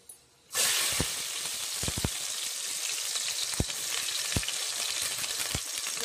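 Sliced onions and green chilies hit hot oil already tempered with cinnamon, cloves and cardamom for mutton dum biryani. The first half-second is quiet, then a loud, steady frying hiss sets in, broken by several sharp clicks of a spoon against the pan.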